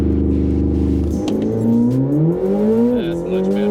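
A Corvette ZR1 launches hard from a 3,000 RPM hold, a loud steady idle-hold note giving way to a rising engine roar as it accelerates, with a brief shift dip near the end.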